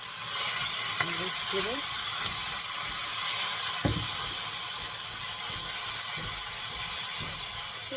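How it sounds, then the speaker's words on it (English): Ridge gourd pickle paste frying in a pan gives a soft continuous hiss and sizzle, fairly close, running under a person's brief speech with a few light clinks of utensils. "So let it fry for a minute or two."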